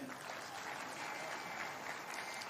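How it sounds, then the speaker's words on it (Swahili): Applause for members of parliament at the commissioning of a clinker plant in West Pokot County, Kenya; a dense, continuous wash of clapping from a crowd, moderately distant, with some voices mixed in. "Pigeni hawa makofi jameni."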